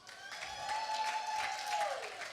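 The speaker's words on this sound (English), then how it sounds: "let's give them a round of applause" Sustained audience applause at an event on living with multiple sclerosis, a dense even patter of many hands with a faint steady tone running through it.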